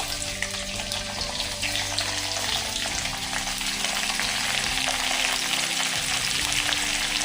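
Sliced onions hit a pan of browned coconut and fry with a steady, even sizzle and hiss, continuous and close, with faint stirring scrapes underneath.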